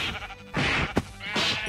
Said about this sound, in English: That's a lot of sheep, man.